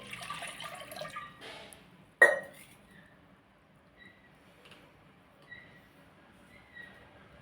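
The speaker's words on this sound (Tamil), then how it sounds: "இப்போ ஒரு சொம்பு தண்ணி ஊற்றி" A pot of water is poured over chopped banana flower in a kitchen, giving a splashing rush for about two seconds, then a sharp clatter and faint drips and small clinks in near silence.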